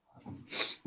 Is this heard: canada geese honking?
no